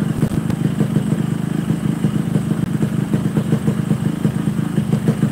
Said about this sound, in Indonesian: Knalpotnya nggak enak banget.